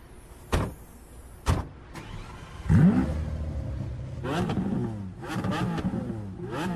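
An old, noisy car starts up with sharp clunks, then the engine catches and revs in several rough, rising bursts, close and fairly loud, with no talk.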